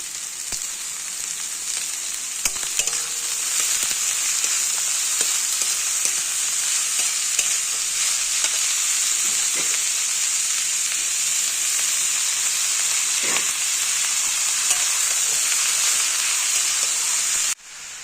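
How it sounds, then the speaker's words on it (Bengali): Chopped cabbage frying with lightly fried onion in a pan, giving a loud, continuous sizzle and hiss with occasional scrapes and stirring clatter throughout. "পেঁয়াজটা হালকা ভাজা হয়ে গেছে, দিয়ে দেবো কেটে রাখা বাঁধাকপি।"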